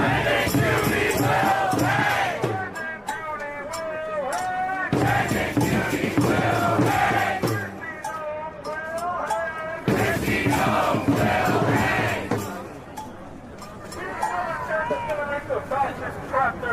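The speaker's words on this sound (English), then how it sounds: "Leftist crowds in Foley Square are calling for Kristi Noem to be hanged" A protest crowd chants in repeated loud bursts in Foley Square, many voices shouting together in a rising and falling rhythm, with brief pauses between chants.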